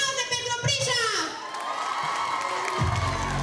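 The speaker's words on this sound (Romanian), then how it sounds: "Aplauze pentru Prișa!" A crowd at a high school freshman ball cheers and shouts with excited whoops, while sustained tones glide and swell underneath, the cheering rising again toward the end.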